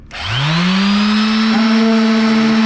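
A power sander whirs up from silence to a steady, loud motor whine that holds an even pitch throughout.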